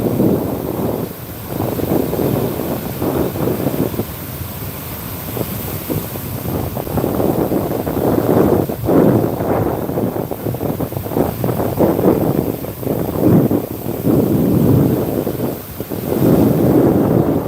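Strong wind buffets the microphone on Pensacola Beach, a loud continuous roar with gusty surges, while surf rumbles underneath throughout.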